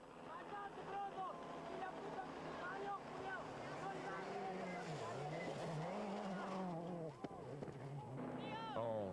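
Peugeot rally car driven by Marcus Gronholm on a gravel special stage beside Lake San Roque near Villa Carlos Paz, Argentina, its engine revving and shifting loudly throughout, with a voice talking over it.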